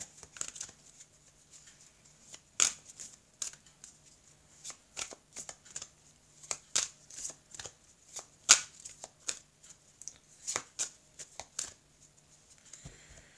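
Tarot cards shuffled and drawn by hand at close range: quiet, crisp riffling flicks and slaps in irregular bursts over a hushed background, with no voice.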